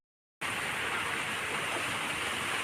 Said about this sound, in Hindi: क्या आपके उधर भी ऐसी बारिश हो रही है अभी इस टाइम पे?